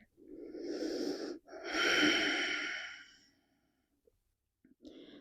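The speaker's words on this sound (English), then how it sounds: "Breathe here." Slow, deep breathing during the crocodile pose of a morning yoga stretch: two long close breaths, in then out, each a few seconds long, then a quiet pause and the start of another breath.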